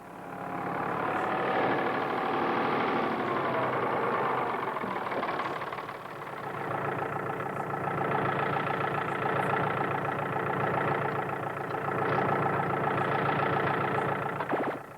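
Tractor engine idling steadily and close, held back while towing a bogged-down water tanker, a continuous loud mid-low drone with no talk.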